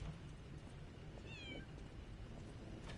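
A hotel cat in the video game Lies of P gives a single short meow partway through, heard close over a steady, noisy game background.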